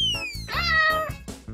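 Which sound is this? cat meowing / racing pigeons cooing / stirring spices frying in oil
cat meowing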